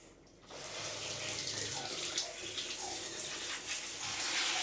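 Water rinsing a dog during its first bath: a steady, close stream of running water that starts after a brief quieter moment and gushes continuously, with no voices.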